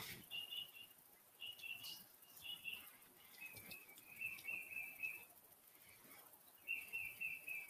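Birds sing and chirp faintly in the distance, with short high whistled phrases repeating at irregular intervals over a quiet background hiss.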